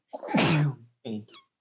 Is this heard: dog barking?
no